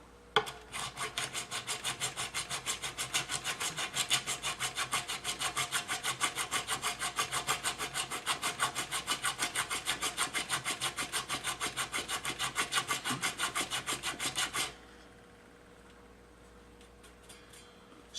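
Steady rhythmic rasping of a file cutting a replacement nut on a Les Paul guitar, close and loud, with even back-and-forth strokes for about fifteen seconds before stopping abruptly, leaving quiet room tone.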